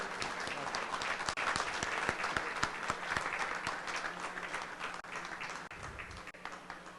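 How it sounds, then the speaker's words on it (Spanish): Steady, dense applause from an audience at a book fair in San Luis, honouring author Emiliano Ruiz Parra, sustained and even for the whole stretch with no voices over it. "les quiero pedir que le demos un aplauso a este hombre que ha hecho un gran esfuerzo por estar aquí, Emiliano Ruiz Parra."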